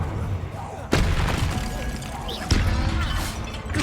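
A Repulsor spell cast in the video game Hogwarts Legacy, two loud percussive magical blasts a second and a half apart, each a sharp burst that trails into a rumbling whoosh over game ambience.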